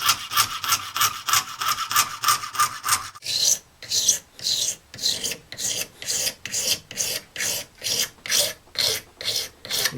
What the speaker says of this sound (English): Filing down to the line